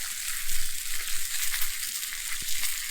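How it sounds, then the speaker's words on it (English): Small torn buns toasting in hot butter on a Blackstone griddle, a soft close sizzle with light scraping touches and one sharp tap near the end. "I'm just gonna add a little bit of hot butter"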